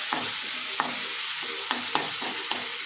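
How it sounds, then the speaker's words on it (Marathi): Tomatoes sautéing in oil for a cauliflower curry, a steady close sizzle punctuated by regular spatula scrapes and taps against the pan, about five strokes in under three seconds, no voices. "आता टमाटर चांगलं मऊ होईपर्यंत चांगलं परतून घ्यायचं"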